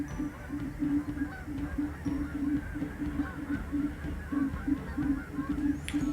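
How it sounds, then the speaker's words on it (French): Thousands of migrating geese of mixed kinds, white, grey and black, flying over the Saguenay region honk in a dense, continuous chorus, many overlapping calls at moderate distance with steady background noise. "on voit passer, migrer des milliers, on peut dire ça, j'allais dire au moins des milliers, peut-être plus encore, d'oies"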